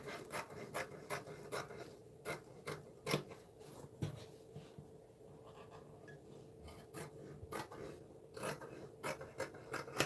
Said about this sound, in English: I'm just gonna cut out our section here